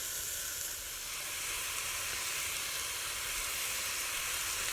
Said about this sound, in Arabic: دونك انا نقليه اللحم الاول وحده.